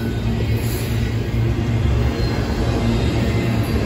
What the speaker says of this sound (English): Here comes Capitol Corridor train 737